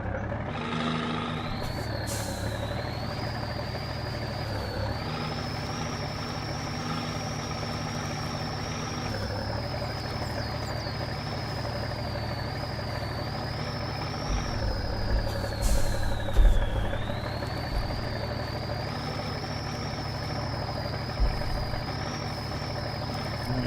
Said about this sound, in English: So let's get the engine started up.